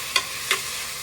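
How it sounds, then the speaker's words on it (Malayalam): Grated coconut roasting in a pan, stirred with two brief, faint scraping sweeps spaced about a third of a second apart over quiet background, with no talking. "തേങ്ങ വറുക്കണം"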